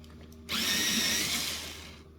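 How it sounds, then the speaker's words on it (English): A colored pencil is sharpened in a small electric sharpener, a sudden high whirring grind that starts abruptly, holds for about a second and a half, then tapers off, close and alone. "I'm going to go ahead and sharpen this."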